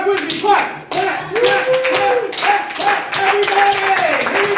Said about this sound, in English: I want everybody to clap with me.